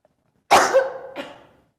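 Single sharp cough from an adult in a quiet room, loud and close, with a second smaller cough burst trailing off.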